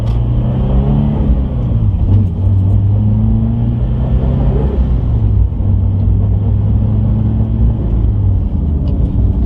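A Scion FR-S with a new clutch pulls hard, its engine note rising and shifting pitch in steady, loud revving runs under continuous road rumble, with no talking.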